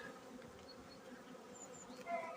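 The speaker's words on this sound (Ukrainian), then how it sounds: "Така маса бджіл." Dense honeybee buzzing from a hive colony during an open-frame inspection, a steady close hum that swells slightly near the end, with no voices.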